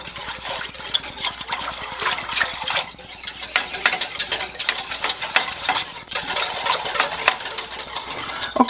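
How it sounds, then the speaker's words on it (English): A whisk stirs milk, butter and flour in a pot over medium heat, scraping and sloshing in quick, continuous strokes close up, with faint sizzling underneath and no voices. "whisking it together with the butter and flour until it is thickened and bubbly"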